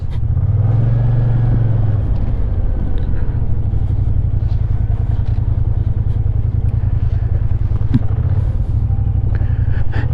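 A Kymco AK 550 maxi-scooter ridden slowly around a circle, its engine giving a steady, loud low rumble close to the microphone, with faint wind noise and no clear speech throughout.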